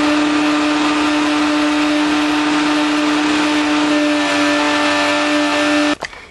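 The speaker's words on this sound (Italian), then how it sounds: "adesso andiamo a frullare il tutto" A blender blending fresh ginger runs steadily at high speed with a loud, constant motor whine, then stops abruptly near the end.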